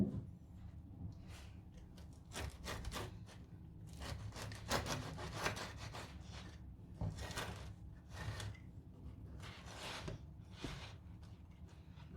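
A knife slices through baked spinach and çökelek cheese börek with a dark, crisp crust, making a series of quiet, close, rhythmic scraping strokes with brief pauses between cuts.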